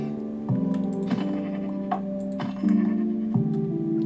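Goat bleats in Minecraft, several short nasal cries in quick succession, clear and fairly close against faint game ambience.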